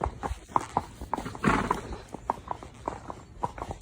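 A mare walks out on a group hack, her hooves clip-clopping in a steady, moderately close rhythm over a rough outdoor surface, with a brief louder rustle or snort partway through.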